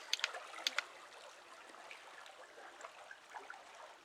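Steady, soft rushing of flowing stream water fills the scene, with a few faint trickles and sharp ticks near the start; no voices.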